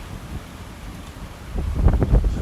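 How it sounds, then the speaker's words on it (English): Strong wind buffets a microphone outdoors, with rain coming in, building into louder gusty rumbling toward the end. "The wind and the rain is coming in."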